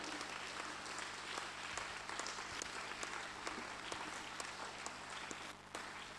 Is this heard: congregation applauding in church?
yes